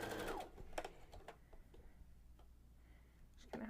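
Sewing machine stitching thick twill tape, a faint, rapid mechanical ticking of the needle in short runs with brief pauses, quiet and close.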